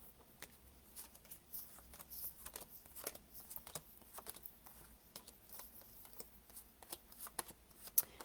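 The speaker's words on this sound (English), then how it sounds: "So just spread these cards out here." Tarot cards being spread out across a table, a run of soft, quiet card flicks and slides repeating irregularly for several seconds with no talk.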